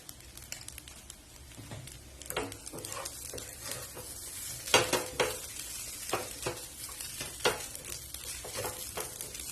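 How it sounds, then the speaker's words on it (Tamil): Egg fried idiyappam being stir-fried in a pan, with a continuous crackling sizzle and frequent scraping and tapping of a utensil tossing the mixture, close up, with no talking. "நல்லா எல்லாம் சேர்ந்து வதங்கிடுச்சு."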